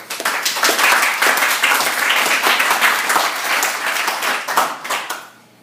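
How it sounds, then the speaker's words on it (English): Dense applause from a large audience welcoming a speaker onto a stage, steady and loud for about five seconds before tapering off at the end. "Please give a big applause for Sirin Mitrani"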